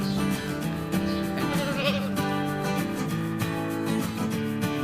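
A goat bleats repeatedly in close, wavering cries that overlap one another, loud and continuous with no talking.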